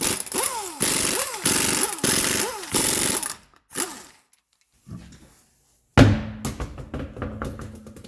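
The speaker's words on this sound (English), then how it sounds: "get yourself a 19 mil and an impact gun and smash those 5 lug nuts off" An impact gun with a 19 mm socket rattles loose the five lug nuts on a 2006 Subaru Forester's wheel in a series of short, loud, hammering bursts that rise and fall in pitch, separated by pauses and followed by metallic clanks.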